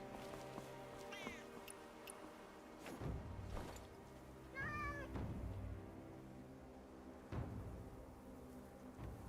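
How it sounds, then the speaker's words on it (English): A cat meows a few times in the video game Where Winds Meet, with short rising calls set against layered game music and ambient sound. "there's a cat."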